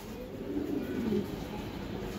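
A pair of tournament racing giribaj pigeons coo softly and steadily at close range, a low murmuring call over quiet background noise.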